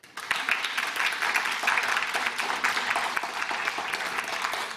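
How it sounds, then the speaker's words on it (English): Applause breaks out for the winners and presenters at a university research pitch competition, a brisk swell of clapping that starts abruptly and holds steady with individual claps audible near the mic. "Please give a big round of applause for our winners and everyone who presented tonight."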